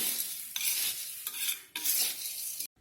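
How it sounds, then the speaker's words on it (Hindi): Mixed namkeen snack with green boondi being tossed and stirred in a bowl, producing bursts of dry rustling and crunching that pause briefly between strokes and end abruptly. "ग्रीन कलर की बूंदी इसको अच्छी तरह से मिक्स कर लेंगे।"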